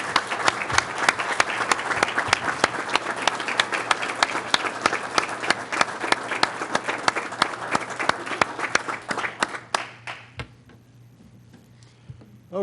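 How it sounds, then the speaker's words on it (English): Sustained applause from a crowd, dense and steady clapping that fades out near the end, leaving a quiet room hum. "can we get one more round of applause"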